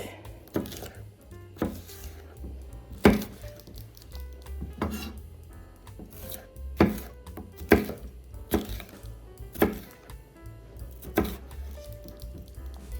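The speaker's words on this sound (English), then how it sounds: "So let's just cut these into matches first." A knife chops vegetables into matchsticks on a cutting board, in an uneven series of sharp, close taps with some soft squishy cuts between them, and no talking.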